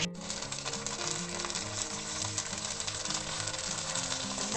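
A fried egg goes into a hot pan of egg Manchurian and is stirred through, giving a steady, close, loud sizzle with no pause and a low rumble beneath.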